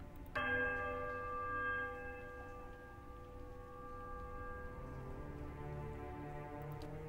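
A temple bell in the Pillars of Eternity video game is struck once with a sharp attack, leaving a long, resonant tone that rings on and slowly fades over several seconds.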